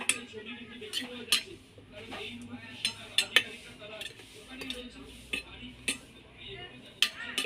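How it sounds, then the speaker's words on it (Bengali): Pointed gourd being stirred with raw mustard oil and a little sugar, a metal spoon scraping and clinking against a steel bowl in irregular close knocks with sharp taps, no one talking. "এবার ওর উপরে আমি দিয়ে দেবো কাঁচা সর্ষের তেল। এবার একটু নেড়ে নেব।"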